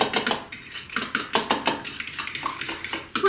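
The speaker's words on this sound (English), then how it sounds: "Now with your whisk or your fork, you're just going to whisk this all together." A whisk or fork beats eggs and ingredients for a Christmas chocolate gingerbread bundt cake batter in a bowl, making quick, rhythmic clinking and scraping strokes, close up and steady, with no talking.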